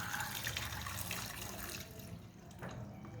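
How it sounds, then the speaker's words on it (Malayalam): Water pouring and splashing over gooseberries in a bowl as they are rinsed with salt, a soft continuous gush that fades toward a trickle, faint and close, with no voices. "കഴുകാൻ ആവശ്യമായ വെള്ളം ഒഴിച്ചു കൊടുക്കാം."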